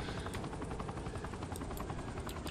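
Helicopter in the Saints Row: The Third video game, a steady dense rotor drone filling the whole stretch, with faint gunfire-like bursts mixed in.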